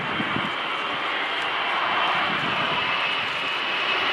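Lockheed Martin F-35B Lightning II jet engine at an air show, a loud sustained roar with a high whine, constant and powerful throughout.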